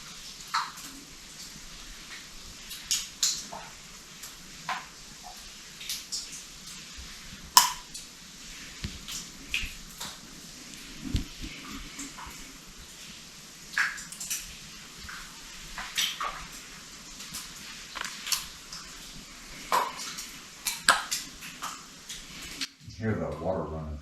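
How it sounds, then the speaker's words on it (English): Water running and dripping inside an Arkansas cave, a faint steady trickle broken by scattered sharp drip ticks and small knocks, close by and otherwise quiet. "you can hear water running real well in the back"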